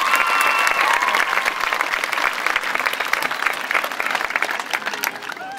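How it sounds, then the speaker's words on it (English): Loud, sustained applause from a large crowd at a high school pep rally, dense clapping filling the whole stretch and tapering slightly toward the end. "1 loud, thunderous applause for the Cougar Club"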